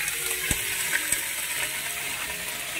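Food cooks over a clay stove fed with dung cakes, wood and leaves in a village kitchen, giving a steady, soft sizzling hiss broken by a few sharp little clicks and crackles.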